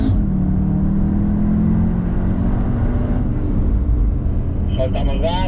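Cupra Leon 2.0 TSI accelerating in Sport mode, a loud steady engine drone rising slightly in pitch, heard from inside the car, with someone speaking over it.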